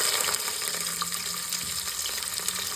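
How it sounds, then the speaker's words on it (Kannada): Chopped onions fry in hot oil with whole spices and bay leaves for egg biryani, giving a steady, close sizzling hiss throughout. "ಈ ಥರ ಫ್ರೈ ಮಾಡ್ಕೊಳ್ಳೋಣ"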